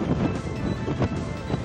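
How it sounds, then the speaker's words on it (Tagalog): Strong typhoon wind (Typhoon Marce, Cagayan) roaring through shoreline trees, a steady loud rushing with gusty swells and buffeting against the microphone, no voices. "Winasiwas din ang hangin ng mga puno sa dalampasigan"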